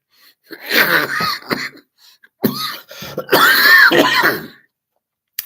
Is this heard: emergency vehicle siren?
no